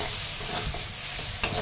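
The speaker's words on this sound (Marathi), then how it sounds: "गॅस आता कमी करून हे मसाले छान परतून घ्यायचे आहेत आपल्याला" Spices sizzle in hot oil in a pan on a gas stove for dal khichdi, with a steady close frying hiss and a few soft stirring scrapes.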